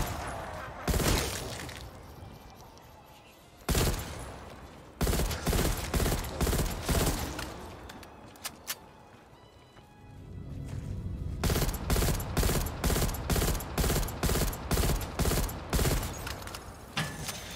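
Gunfire in Black Ops Cold War Zombies sounds as sharp, loud shots, first in scattered single bursts and then in a rapid rhythmic string of repeated cracks over a low game rumble.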